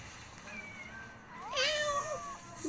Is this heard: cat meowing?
yes